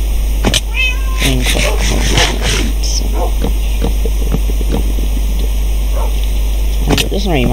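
A Minecraft cat named Fluffy meows several times over a constant low game hum, short rising mews near the start and end with scattered clicks and other game noises between.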